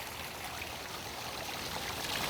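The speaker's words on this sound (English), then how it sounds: "We got some good water flow now happening" Water pours over small backyard pond waterfalls in a steady, loud, close rush with no breaks or voices.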